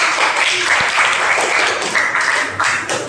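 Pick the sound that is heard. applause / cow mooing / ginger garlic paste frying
applause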